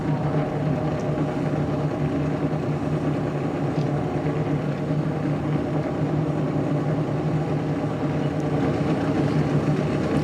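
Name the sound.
rotary-engined drift car engine before its run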